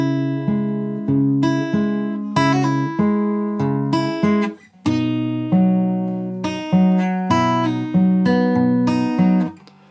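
Guitar plays the second line of a song, a sequence of ringing plucked chords and single notes in an even pulse, close and loud, no voice over it.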